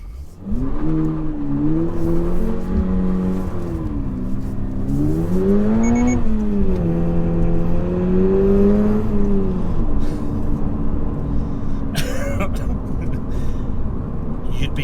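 A Toyota GR86 accelerates out of a T-junction, its engine revving up and down in close, continuous surges, with a brief sharp click near the end.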